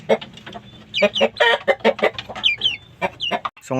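Hens cluck in quick, choppy bursts close by, with a few higher squawks mixed in and no talking.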